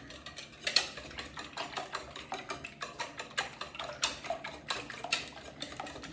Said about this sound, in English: I'm going to whisk them together just like you're making scrambled eggs.